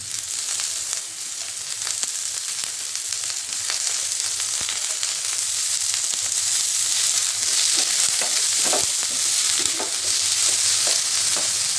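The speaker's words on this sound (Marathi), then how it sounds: "कांदा पण छान भाजून घ्यायचा." Onion fries in hot oil with a continuous close sizzle and crackle, broken by frequent scraping clicks as it is stirred around the pan. The sound holds steady and loud for the whole stretch, and no one speaks.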